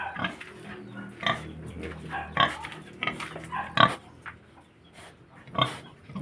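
Pigs on a small farm grunting and snorting in short irregular bursts, several close calls spaced across the stretch with quieter shuffling between them.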